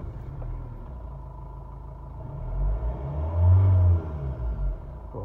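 A Renault Trafic van engine turns over and catches after a battery replacement, giving a low, faint rumble with a couple of swells as it settles into running.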